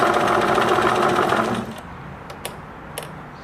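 A Singer Merritt 2404 sewing machine stitching, a steady close mechanical whir for about a second and a half that then stops, followed by a few light clicks.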